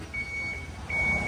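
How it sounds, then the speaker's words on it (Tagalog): A Transtron reverse warning on a truck sounds as two steady, high electronic beeps with a short gap between them, clear over a low background hum. "ganyan yung tone nung Transtron voice warning natin"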